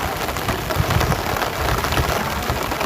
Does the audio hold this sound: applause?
no